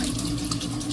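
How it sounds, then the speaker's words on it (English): Tap water runs steadily into a sink while a hand is rinsed, a close, continuous splashing stream with no talking. "Let me rinse my hand"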